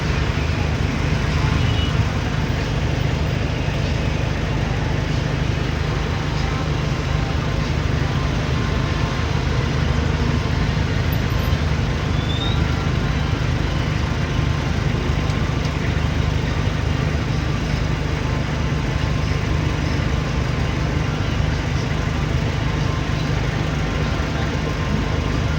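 Saturday road traffic from inside a truck: a steady, loud broadband engine and road rumble with a constant low drone, continuous throughout without clear individual pass-bys.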